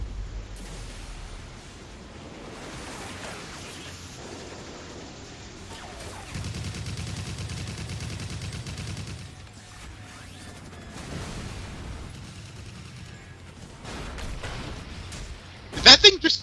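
Gunfire and explosions in a video game, a muffled rumble of shooting and blasts rolling at a distance beneath someone talking, ending in a few sharp, louder bangs.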